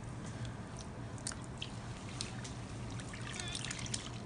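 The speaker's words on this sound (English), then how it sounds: "I'm putting this fresh bowl of water." Water trickles and splashes as it is poured into a bowl while rinsing synthetic hair, a faint, continuous liquid dribble with small splashy bursts close to the microphone.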